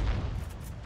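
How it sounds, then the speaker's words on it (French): A grenade goes off in the shooter game Heroes & Generals: a single deep, low boom, loudest at the very start, then a rumbling tail that fades over about a second. "Grenade!"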